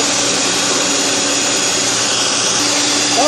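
An electric mixer beats choux pastry dough in a bowl, a steady, loud motor whir that runs unbroken for the whole stretch with no voices over it.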